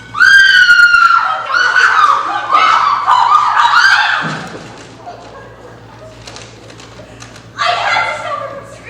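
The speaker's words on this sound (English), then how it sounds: "I had to stop her from screaming." A woman on stage in a high school production of Clue screams loudly in long, wavering, shrill bursts for about four seconds, then goes quiet, and a shorter scream rises again near the end.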